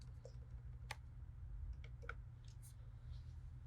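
Sparse, quiet clicks from a computer keyboard while text is typed into InDesign, a few separate keystrokes over low hum.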